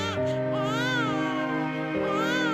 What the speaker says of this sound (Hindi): उसी समय जंगल से गुजर रहे 3 हाथी उस बच्ची की रोने की आवाज सुनते हैं।